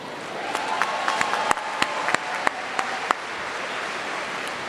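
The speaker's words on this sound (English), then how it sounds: "Round of applause for them again." Commencement audience at Fort Valley State University applauding newly commissioned cadets: a steady, fairly distant wash of clapping from a large crowd, with a few sharper individual claps standing out over the hall.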